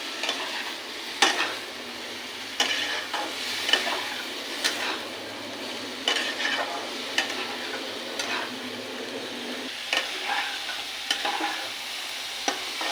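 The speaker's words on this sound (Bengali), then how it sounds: "সয়াবিনটা কষানো হয়ে আসছে" Soybean curry with masala and potatoes is stirred in a pan, the spatula scraping and clicking in an irregular rhythm about once a second over a soft, continuous sizzle.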